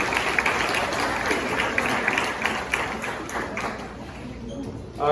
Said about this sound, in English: I think we give them a round of applause.